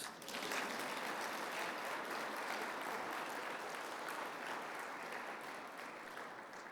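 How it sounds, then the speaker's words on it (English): Audience applause at the opening ceremonies of the 2026 Indigenous Prosperity Forum, celebrating 30 years of NACCA; a continuous wash of clapping from a large room, fairly distant and steady, easing slightly toward the end. "Please, applause."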